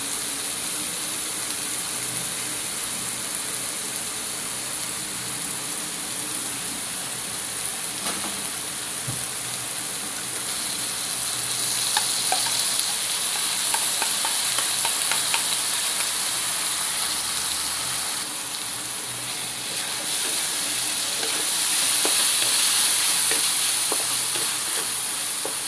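Corned beef and hotdog frying in hot oil in a pan, with a loud, steady sizzle and hiss that swells as the meat goes in and carries on with occasional stirring scrapes.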